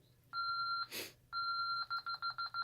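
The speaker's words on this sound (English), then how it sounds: "Now you can hear it rapidly beeping" Electronic beeps from an ADT/Tyco Safewatch Pro 3000EN alarm panel: two long steady tones separated by a brief burst of noise, then a fast run of short, evenly spaced exit-delay beeps, close and clear.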